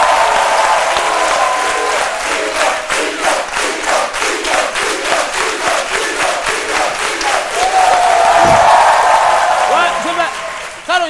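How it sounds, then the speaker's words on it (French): A studio audience on a French midday TV show gives loud, sustained applause for the show's mascot, with dense clapping, crowd cheers and talk over it, swelling louder near the end. "On applaudit très fort pour"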